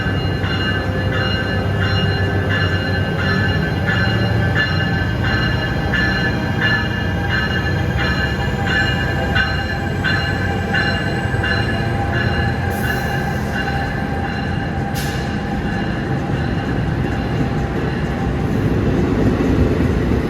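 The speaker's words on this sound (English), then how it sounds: "train 5733 bound for High Bridge" A commuter train at Newark Penn Station during the evening rush hour, rumbling and grinding close by with sustained high-pitched wheel squeal and tonal whines throughout, loud and steady.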